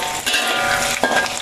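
Ingredients frying in a hot pan of oil for a spicy Malaysian ayam penyet, a dense, close crackling sizzle with a brief stir or clatter near the end, no voices.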